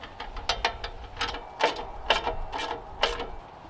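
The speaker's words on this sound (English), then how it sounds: "go get yourself a 1/2-inch socket, and we'll go ahead and tighten these nuts up" A 1/2-inch socket ratchet tightens nuts while a Toro TimeCutter mower's dual bagging system is installed, giving close, rhythmic bursts of clicking pawl strokes repeated several times with short pauses.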